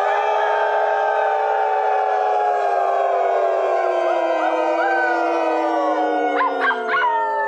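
A crowd of people howls together in imitation of wolves, many overlapping sustained rising and falling voices forming a loud, continuous chorus that swells and wavers for several seconds, with a few higher yips near the end.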